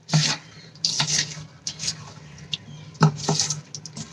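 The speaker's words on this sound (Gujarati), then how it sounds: "હવળા હાથે બધાને લીંબુને આપણે સરસ રીતે મિક્સ કરી લઈશું" Soft, irregular squelching and rubbing of lemon pickle being mixed by hand, with gentle wet pats and scrapes in uneven bursts, close and fairly quiet.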